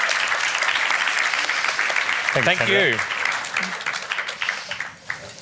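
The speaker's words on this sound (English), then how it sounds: "A big round of applause for our panel." Applause from a forum audience for a panel on The Kitchen Stage, a thick steady roar of clapping with a brief voice speaking over it midway, then tapering off toward the end.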